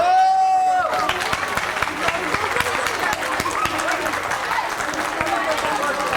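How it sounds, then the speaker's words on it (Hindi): An audience at an outdoor Ramlila performance in Paschim Vihar Extension claps, a dense sustained patter of many hands with crowd murmur that starts after a brief held vocal note and carries on steadily. "तालियां"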